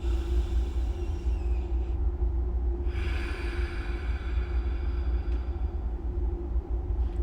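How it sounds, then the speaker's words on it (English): Slow, deep Ujjayi breaths through the nose, a five-second inhale and five-second exhale, close and soft over a low steady rumble. "which is a 5 second inhale and exhale through your nose, which would sound like this"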